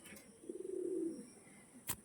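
A male pigeon gives a single low, rolling coo, close and fairly quiet, followed by a brief faint click.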